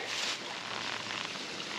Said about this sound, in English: Maybe you can hear it behind me.